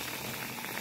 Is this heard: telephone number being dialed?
no